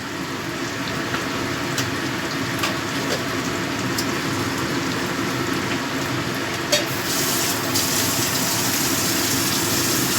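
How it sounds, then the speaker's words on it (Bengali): Ginger-cumin paste fries in a pan with bhetki fish head and bones, a loud continuous sizzle and hiss with occasional brief stirring clicks, no talking. "এবার আমি প্রথমে দিয়ে দিচ্ছি আদা জিরে বাটা, পরিমাণ মতো আদা জিরে বাটা দিয়ে দিলাম।"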